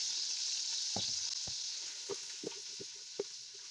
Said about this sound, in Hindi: अब हम मिर्च को अच्छे से पका लेंगे।